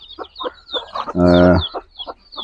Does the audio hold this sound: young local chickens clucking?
yes